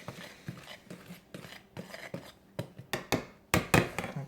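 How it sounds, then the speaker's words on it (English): A whisk stirs dry cake ingredients in a bowl, producing rhythmic scraping and tapping strokes at a steady pace that grow sharper and louder toward the end, close up with no talk. "I'm going to whisk the dry ingredients together"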